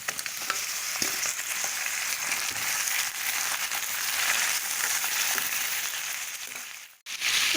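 Chicken pieces for an Assamese local chicken curry sizzle and fry loudly in a pan after onions and dry chillies, a steady crackling hiss with occasional stirring that cuts out briefly near the end.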